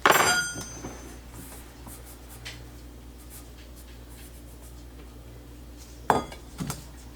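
Spoon stirring strawberry freezer-jam ingredients in a pot, a loud initial scrape and clink, then a quiet stretch of faint scraping, and two more clinks of utensil against the pot near the end.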